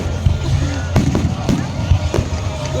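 Fireworks bursting at a fireworks show, several sharp booms landing roughly every half second over a steady crowd din, with people chatting throughout.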